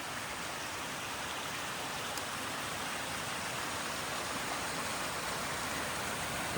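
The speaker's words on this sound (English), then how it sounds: "These waterfalls, it's not one big waterfall. It's more of a cascading waterfall." Steady, dense rushing of a cascading waterfall at Far Country Falls fills the scene, a constant broadband wash of falling water with no pauses and no voices.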